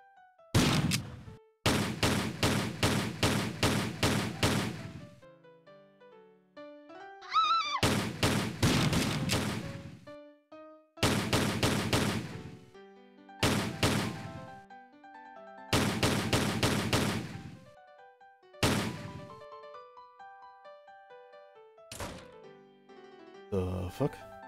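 Gunfire in the video game Dreamland R Final Mix, repeated rapid automatic volleys in separate bursts with pauses between, loud and close over a sparse musical tone background.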